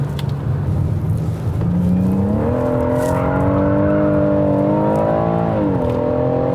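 A BMW six-cylinder car engine revs up from a low idle, the pitch climbing smoothly and holding at a higher note before dipping and rising again, loud and close with no talk.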